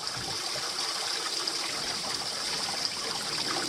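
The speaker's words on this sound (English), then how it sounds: "And I'm going to fill this bag up." A 1 litre water bag is filled from a stream outdoors, with steady trickling and gurgling water running throughout at close range.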